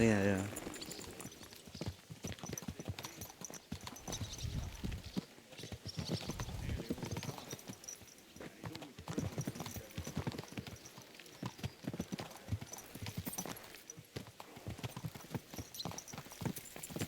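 Horse hooves clip-clop in a steady walking rhythm in the video game Kingdom Come: Deliverance 2, with voices talking over them throughout.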